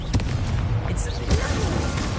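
A Confringo explosive spell goes off in Hogwarts Legacy, with sharp blasts and booms scattered through a busy mix of combat noise, and a voice speaking over the fight.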